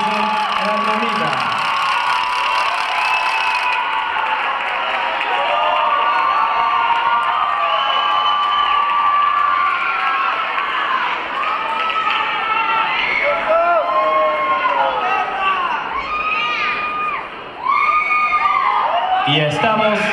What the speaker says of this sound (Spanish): Recibamos con un fuerte aplauso para la 254, Jefferson y Arianita